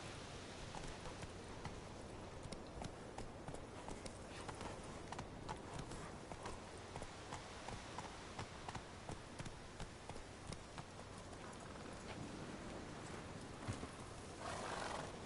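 A horse gallops in The Witcher 3 with steady, rapid hoofbeats that run the whole way through, faint and distant, with an occasional snort or whinny.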